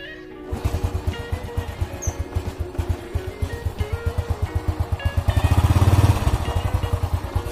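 A Honda Astrea Grand motorcycle from around 1991–1993, with a newly replaced battery, idles with a steady, rapid, even engine pulse. It swells briefly louder near the end, heard close up with no talking.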